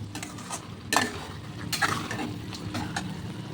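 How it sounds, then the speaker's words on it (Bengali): Steady sizzling of potatoes frying in a pan, with occasional stirring scrapes and utensil clinks, close up and moderately loud. "এই যে আলু ভাজা হচ্ছে"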